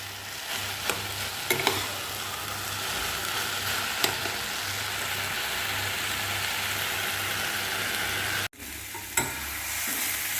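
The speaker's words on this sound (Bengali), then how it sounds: "এই যে নাড়াচাড়া নাড়াচাড়া করে একদম শুকিয়ে গেছে পুরো জল টেনে গেছে" Banana stem curry (thor ghonto) is stirred as it dries in a pan, with a steady sizzle under repeated scraping strokes of the spatula, sharp clicks at intervals and a brief cut near the end.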